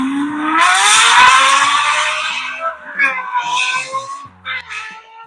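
A Lexus LFA accelerates hard, its engine shrieking upward in a rising, high-pitched wail that fades out, followed by brief voices talking.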